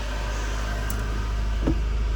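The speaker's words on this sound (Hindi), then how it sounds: "चलो दरवाज़ा खोलने तक गाड़ी को कुछ टाइम भी मिल गया वार्म अप होने का।" A Suzuki Cultus Limited Edition car engine idles while warming up, giving a steady low rumble and hum, close and continuous, with a brief faint knock near the end.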